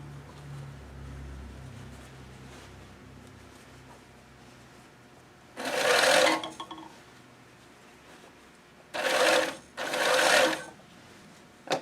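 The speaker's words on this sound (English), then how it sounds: "this machine sure saves a lot of time, and you can't see your stitches on the other side" An electric sewing machine stitches an angled invisible hem in three loud whirring runs, one longer and two short close together, with quiet handling sounds between.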